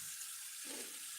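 Hot tap water runs steadily over a cutting board in a home kitchen, a faint, even hiss of flowing water with no talk.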